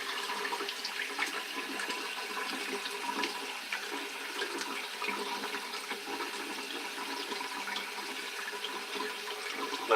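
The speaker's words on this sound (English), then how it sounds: "Get my face wet down a bit." Water running from a tap and splashing onto a face before shaving lather, a steady close hiss of flowing water with faint irregular splashes throughout.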